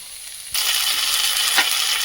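Onions and potatoes frying in a pan for a Bengali pea curry: a quiet moment gives way abruptly to a steady, close sizzling hiss that holds to the end, with no talking.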